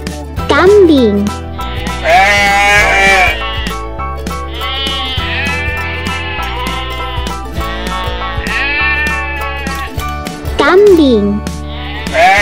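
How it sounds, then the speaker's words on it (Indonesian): A toy goat gives repeated electronic bleats against a busy backing of music and a voice naming animals, the bleats rising and falling in short wavering bursts. "Kambing."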